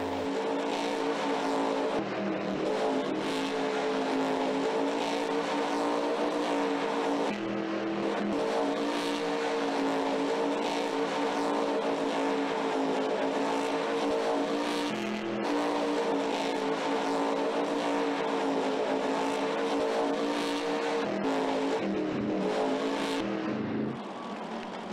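The Avenger monster truck's engine in the Monster Jam video game, played in stunt mode, roars continuously with revving surges and brief dips across the run, loud and steady with no speech.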